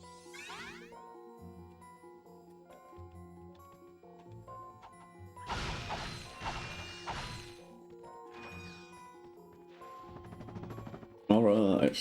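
Wooden crates bursting open in the Ratchet & Clank video game, several sharp cracking smashes in separate bursts with scattered tinkling pickups between them, over quiet game background.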